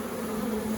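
A backyard honey bee swarm massing at a hive entrance makes a dense, continuous buzz, loud and close, with no talking.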